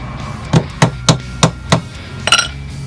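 Five sharp hammer blows land on an LG top-load washing machine at a steady pace, followed by a brighter metallic clank, close and distinct against a quiet background.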